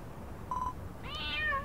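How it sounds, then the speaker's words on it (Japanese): A cat meows twice in Dragon Quest Builders 2, the first a faint short tone and the second a clearer, rising mew, both quiet over soft background game ambience with no talk. "猫とかもさ、この島にいるんだ。"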